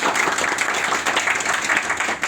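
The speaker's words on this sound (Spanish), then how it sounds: "un gran aplauso" A conference audience at a talk on game graphics development claps steadily, a dense, continuous wash of applause at close range throughout.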